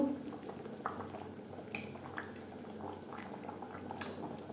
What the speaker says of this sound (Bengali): 3-4 মিনিট ফুটিয়ে নেব।